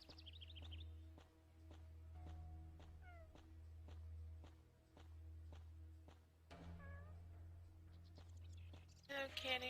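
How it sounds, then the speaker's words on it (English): A cat meows several times in the video game Ankh 3, short rising mews over a steady ticking, humming game ambience, fairly quiet and alone, with a brighter rustling burst at the very end. "It's a kitty."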